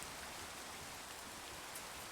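Steady rain falling in a video game's natural setting, a dense, even hiss of drops pattering on surfaces throughout, with no voices.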